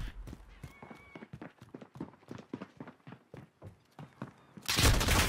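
Submachine gun fire from a secondary weapon in a Modern Warfare multiplayer match: a loud, dense burst erupts near the end, after a stretch of rapid sharp pops and clatter.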